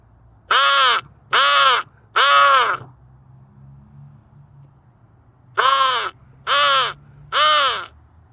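Crows caw loudly and close in two bursts of three harsh calls, answering a handheld crow caller outdoors, with a low rumbling hum in the quiet gap between the bursts.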